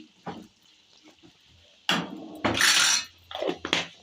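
A metal lid clanks onto a cooking pot of tomato curry, with a few sharp knocks followed by a longer scraping rattle and more clinks, close and fairly loud.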